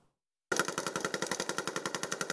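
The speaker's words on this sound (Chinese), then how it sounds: "站在车上连环开枪射击" Army special forces soldiers standing on a vehicle fire guns in rapid succession during a drill, a sudden burst of about twenty evenly spaced loud cracks after a brief silence.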